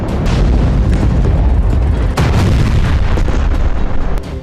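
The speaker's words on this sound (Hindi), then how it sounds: "देखिए मिसाइलों से कैसे जोरदार धमाके हो रहे हैं।" Heavy booming blasts from Israeli anti-tank missiles striking Hamas positions in Gaza, a loud sustained rumble with repeated deep impacts and sharp bursts throughout, no voices.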